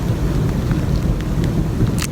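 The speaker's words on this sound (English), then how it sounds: "Thunder." Deep thunder rumbles on and on over a steady hiss of rain in a garden, loud and continuous, with a few brief drop hits on top.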